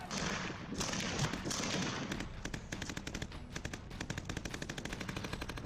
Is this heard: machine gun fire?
yes